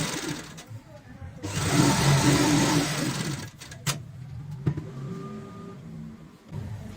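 Sewing machine stitching a cushion cover along a fabric strip, a steady whirring run of stitches building for about two seconds, then short bursts and clicks as the fabric is adjusted between seams.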